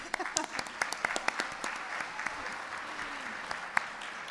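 Applause at a recognition lunch for women of color in STEM and technology: scattered, fairly light clapping from a modest crowd, with individual claps distinct and a quiet murmur underneath.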